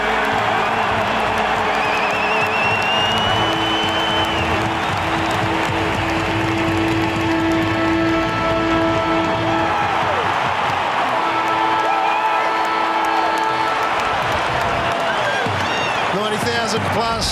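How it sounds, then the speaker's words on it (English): A large football crowd at the MCG roars in a sustained, dense wall of cheering and applause straight after the national anthem, with chants and shouts rising and falling over the steady din. "the last line, and then the roar of the crowd"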